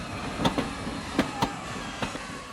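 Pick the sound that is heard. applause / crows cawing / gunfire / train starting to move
train starting to move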